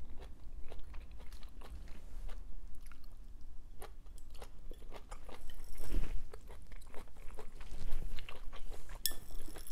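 Someone eating stir-fried long beans with garlic cloves, up close, with steady wet chewing and crunchy bites repeating over several seconds, with no talking.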